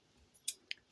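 Two quick scissor snips trimming paper corners for a handmade album, short and crisp at close range in an otherwise quiet room.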